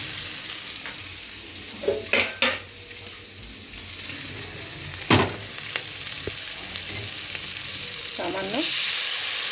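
Potatoes fry in a pan with chili powder and a splash of water for a restaurant-style spicy potato dish: a steady hissing sizzle broken by a few sharp clinks and scrapes of stirring, with a brief spoken word.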